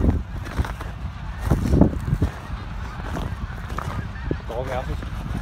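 A flock of snow geese honks continuously, a busy overlapping chorus at moderate distance, with a faint voice briefly underneath, on a freezing winter farm.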